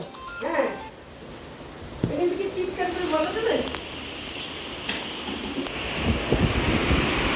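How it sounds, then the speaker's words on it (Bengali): Strong wind roars in continuous gusts against the microphone during bad weather in darkness, while people talk over it intermittently. "প্রচন্ড হাওয়া হচ্ছে।"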